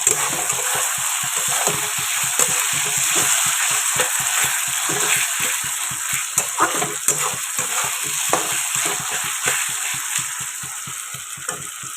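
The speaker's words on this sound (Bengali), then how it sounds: "তো এখন চিকেনটা দিয়ে ভালো করে কষিয়ে নিচ্ছি" Chicken with Kashmiri red chilli powder and spices sizzles loudly in a pan, with a rapid, regular scraping of a spoon stirring it throughout and no talk.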